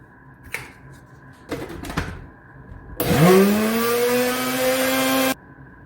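An electric mixer whirs loudly and steadily for a couple of seconds while beating chocolate cake batter with milk and vanilla, after a few brief knocks and clatters at the start.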